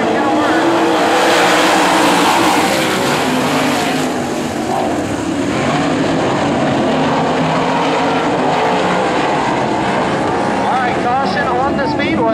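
Race cars, super late models, running hot laps side by side at a speedway, a loud steady roar of engines that goes on without a break, with a voice talking over it.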